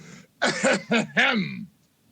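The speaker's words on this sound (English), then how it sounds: "you should get some lozenges for that cough" A single close, harsh throat-clearing cough, broken into several rough bursts over about a second, followed by quiet.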